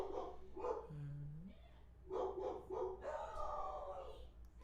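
Excited dogs, including a newly arrived foster dog, bark, yip and whine in short, uneven bursts at a moderate distance indoors, with a rising whimpering cry among the barks.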